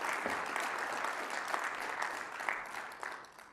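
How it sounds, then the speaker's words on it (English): Applause from a conference audience at a business breakout session, a steady dense clatter of many hands that holds for a few seconds and then begins to taper off. "Please give her a round of applause, please."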